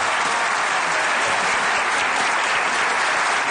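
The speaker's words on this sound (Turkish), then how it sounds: "Alkışla. Bravo." Steady, dense applause from a studio audience on a Turkish TV show, loud and continuous with no gaps.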